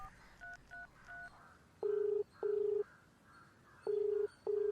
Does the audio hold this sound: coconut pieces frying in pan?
no